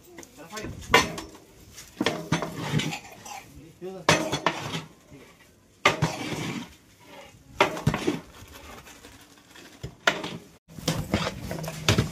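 Semolina stirred and mixed in a metal pot, with repeated scraping, clanking and clatter of utensils in uneven bursts, up close, while people talk throughout.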